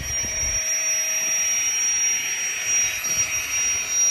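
A Hoover Air Aqua waterproof drone flies outdoors, its steady high-pitched buzzing whine filling the scene continuously, fairly loud and close, with no one talking.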